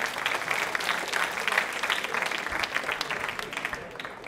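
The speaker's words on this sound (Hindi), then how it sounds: "एक बार अपने लिए तालियां बजाइए जोरों से आप" Quiz show audience clapping for themselves, continuous dense applause from a crowd, steady and fairly even for a few seconds.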